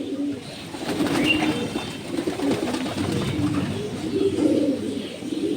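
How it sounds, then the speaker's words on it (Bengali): A female racing pigeon coos in a loft in Tangail, with soft rolling coos rising and fading over a constant background murmur from the flock. "একটা মাদি কবুতর।"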